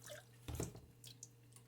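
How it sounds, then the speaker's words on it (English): A third cup of milk is poured into a mixing bowl of doughnut batter, a brief liquid splash with a few drips afterward, close and moderately quiet. "Now we're going to pour in 1/3 cup milk."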